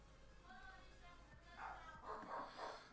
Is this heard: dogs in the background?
yes